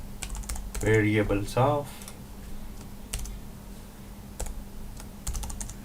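Computer keyboard typing, scattered close clicks and short bursts of keystrokes, with a brief spoken phrase early on over a faint steady hum.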